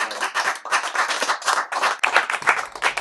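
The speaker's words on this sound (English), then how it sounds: "Can we get a round of applause for Sadhguru?" Audience applause for Sadhguru at the close of a talk, a loud, close burst of many hands clapping in dense waves that swell and dip over a few seconds, with no voices.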